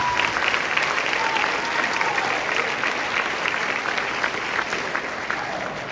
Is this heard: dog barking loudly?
no